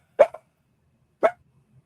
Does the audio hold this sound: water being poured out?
no